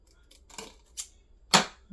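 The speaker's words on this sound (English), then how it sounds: "those scissors are definitely working better for me today after I sharpened them" Freshly sharpened scissors cutting craft material: three or four short, crisp snips spaced irregularly over two seconds, close and fairly quiet, the last cut the loudest, with no talking.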